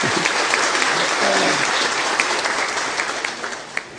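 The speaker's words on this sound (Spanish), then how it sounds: "para quien pido un aplauso" Audience at an outdoor-style Catholic Mass in Tupasy Caacupé applauding the bishop, a loud, dense burst of clapping that carries through and slowly thins toward the end.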